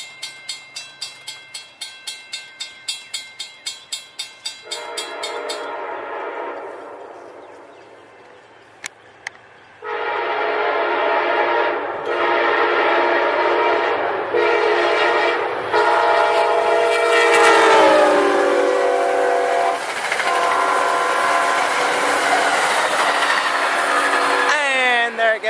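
An Amtrak passenger train approaches and roars past, its horn blaring in long loud blasts that shift in pitch, preceded by rhythmic clanging of crossing bells.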